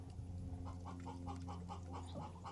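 A backyard chicken clucks softly in a quick repeated series of short notes over a steady low hum of background noise.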